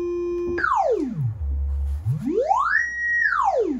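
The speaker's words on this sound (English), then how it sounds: "this LFO is sending a sine wave rate out from the Pulse 16 output number 9, right into the CV pitch control of oscillator 1 here." A modular synth oscillator plays a pure sine tone whose pitch is swept by a CV LFO from a Ferrofish Pulse 16, gliding smoothly down to a low drone and back up in clear, loud sweeps with no talk.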